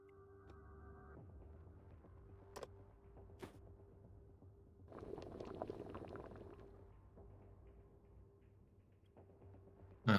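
Dirty water boiling over a campfire in the zombie survival game Terminus Zombie Survivors, a soft bubbling and hissing that swells for a few seconds over a low, steady hum, with a couple of faint clicks.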